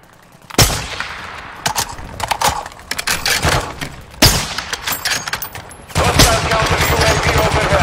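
Rapid video game gunfire in bursts, with loud sharp shots and sustained automatic fire that swells toward the end, a player talking intermittently underneath.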